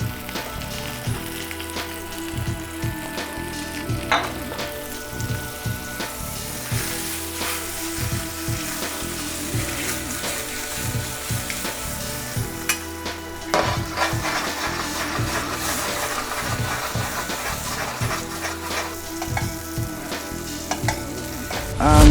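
Salmon fillet sizzles and fries in a pan with butter, a continuous crackling hiss with occasional scraping and stirring clatter, close and steady with no talking.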